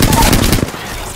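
Rapid gunfire bursts in the video game Apex Legends, loud and dense for just over half a second before cutting off into quieter game ambience.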